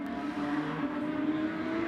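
Production sedan race cars battle for the lead at a night race, several engines droning together at a steady mid distance, their layered revving tones rising slightly, with no voices over the sound.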